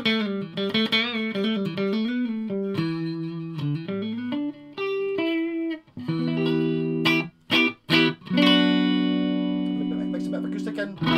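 An electric guitar with single-coil pickups in the middle position plays clean, ringing melodic phrases and sustained chords, with short pauses between passages.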